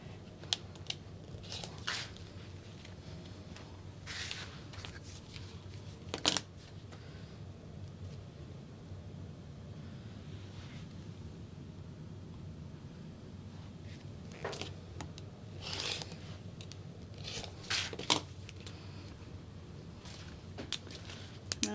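Scissors cut fabric for a sewn clutch bag, with sparse, faint snips spread across a quiet room.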